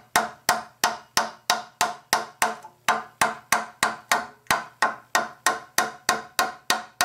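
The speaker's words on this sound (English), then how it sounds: "I'm going to tap it with rawhide mallet now." Rawhide mallet tapping a dented bass trombone handslide tube over a mandrel, a steady run of about twenty crisp, evenly spaced knocks, close and moderately loud, with no voices.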